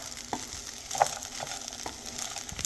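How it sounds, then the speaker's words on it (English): Stuffed bell pepper filling is stirred in a pan over steady frying sizzle, with a few soft scraping strokes of the spoon spaced through it, fairly quiet and close, with no talk. "Now, we're just going to stir this around."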